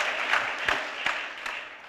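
Audience applause at an NAACP jobs campaign event: a dense, steady patter of clapping from a crowd, moderately loud, with a few sharper individual claps standing out.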